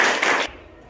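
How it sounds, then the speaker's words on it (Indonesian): A short burst of group clapping from a seated audience cuts off abruptly halfway through, leaving near silence. "Tepuk tangan lagi."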